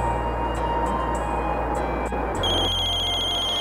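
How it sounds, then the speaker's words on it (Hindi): A mobile phone ringtone starts partway through, a bright repeating electronic ring over a steady low hum, loud and close. "आपका फोन बज रहा है।"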